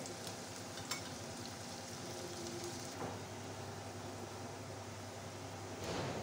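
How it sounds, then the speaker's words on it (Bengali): Chopped onions frying in a pan for a meat curry, a steady broadband sizzle running throughout with a few soft stirring scrapes, moderately close and without speech. "পেঁয়াজটা বন্ধুরা আমি লাল লাল করে ভেজে নেব"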